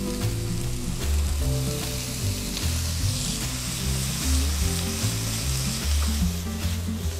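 Chicken and kimchi fry together in a hot pan for kimchi fried rice, giving a loud, continuous sizzle and crackle with occasional stirring scrapes and no voices.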